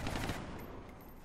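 Gunfire from the video game XCOM: a dense, rattling burst of rapid shots that is fairly quiet and has no talk over it.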